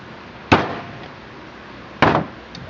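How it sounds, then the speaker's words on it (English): Two sharp metallic hammer strikes on a bolt, driving out the adjuster screw of a Stromberg carburetor from an MGB or Midget, spaced about a second and a half apart, close and loud with a short ring after each. "We take our bolt and we drive out the adjuster"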